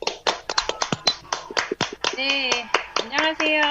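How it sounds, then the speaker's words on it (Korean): An audience claps to welcome a presenter onto the stage at a small gathering, a run of close, sharp handclaps that thins out as a woman starts greeting the room over the last claps. "뜨겁게 박수 한번 보내줬으면 좋겠습니다."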